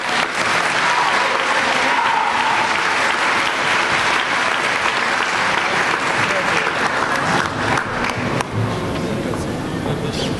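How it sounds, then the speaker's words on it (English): Sustained, loud applause from a large graduation ceremony audience, dense steady clapping lasting throughout with crowd noise mixed in and no break. "How about one more big round of applause for all of our graduates?"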